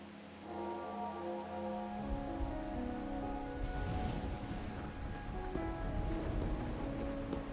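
Steady rain in a video game patters continuously over a soft tonal background, moderately quiet and unbroken throughout.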